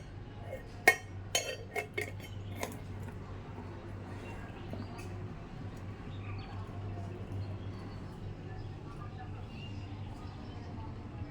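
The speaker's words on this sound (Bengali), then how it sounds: "এখন ঢাকনা দিয়ে ঢেকে" A metal lid clinks down onto a cooking pot set up for baking a cake at home, a few sharp close clanks early on, then only a low steady hum.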